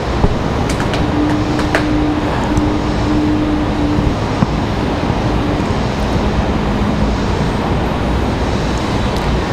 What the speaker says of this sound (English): So that FedEx ATR should be touching down here right now.